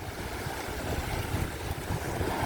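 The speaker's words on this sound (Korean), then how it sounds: "너울이 좀 심하다 보니까 파도가 좀 쳐가지고요." Heavy swell crashing against a rocky sea shore at Jumunjin, Gangneung, in strong wind: a continuous loud roar of surf and gusting wind buffeting the microphone, with no voices.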